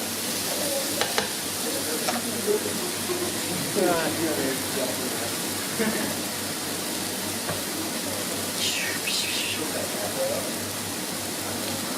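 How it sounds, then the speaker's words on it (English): Spinach wilting in a hot pan with eggs for a mushroom and spinach scramble, giving a steady, fairly loud sizzle and hiss throughout with occasional stirring scrapes, while someone talks over it. "All of the moisture is coming out of there and it's going into the pan, and the spinach is wilting"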